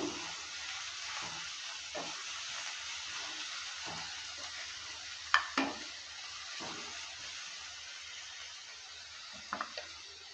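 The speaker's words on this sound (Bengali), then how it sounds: "যতক্ষণ কালারটা চেঞ্জ না হয় ততক্ষণ অবধি ভালো করে নেড়েচেড়ে নিয়ে ভেজে নেব" Chopped onions fry in a pan for an egg tarka, giving a steady soft sizzle with a few sharp clinks of the stirring spoon against the pan, near and fairly quiet.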